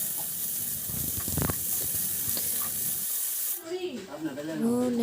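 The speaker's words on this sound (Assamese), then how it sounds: "আলু ভাজি বনালোঁ।" Potatoes fry in hot oil for an Assamese home lunch of flatbread and potato fry, a steady broadband sizzle for about three seconds with brief clattering, then a voice and talk take over.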